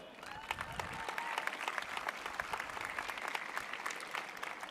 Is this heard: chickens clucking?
no